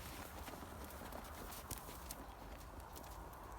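A well-schooled cavalry horse ridden in 17th-century style walks on, its hooves clip-clopping faintly and steadily under a constant broadband hiss, with no talk.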